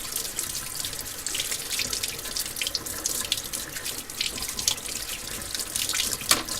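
Running tap water splashes steadily while a freshly made casting is rinsed and brushed out, a continuous close hiss and patter with no pauses.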